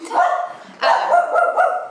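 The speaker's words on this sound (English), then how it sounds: "the dog is going crazy." A dog barks loudly and close by, two sharp excited bursts, the second drawn out into a yelping whine.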